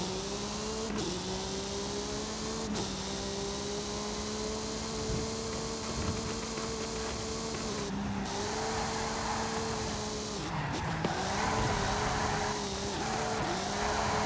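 An all-wheel-drive hypercar drifting in a racing video game, its engine holding a steady droning pitch that dips and recovers at gear changes, with brief tire and gear noises over the continuous loud hum.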